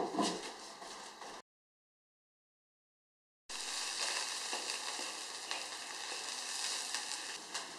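Pork belly braising in a covered wok with a wild herb root, steady gentle sizzling and bubbling close by, cut off briefly in the middle before resuming.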